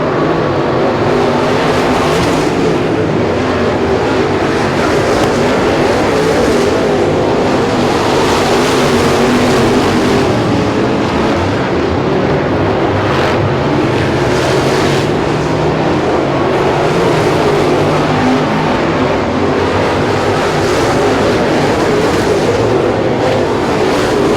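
Race cars circle Super Bee Speedway in a loud, dense, continuous roar of many engines, with swelling passes and no clear talk.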